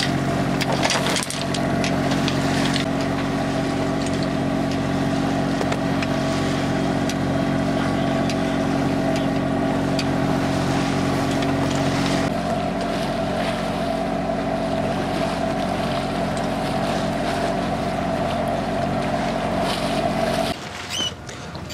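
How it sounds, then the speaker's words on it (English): The engine of the sailing yacht Havoc runs steadily with a constant low hum while under way, mixed with wind buffeting and rushing water, continuous and fairly loud. "reluctantly we started the engine again."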